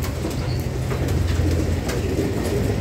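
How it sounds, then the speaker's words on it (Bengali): Domestic pigeons at a small farm where ducks are also kept, cooing in a low steady murmur that continues throughout under a wash of broad background noise. "এই যে আমাদের কবুতর"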